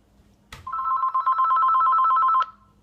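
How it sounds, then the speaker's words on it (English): A telephone gives one loud, close electronic ring burst of about two seconds, with a steady warbling tone, in an otherwise quiet room. "I'm not going to answer the phone."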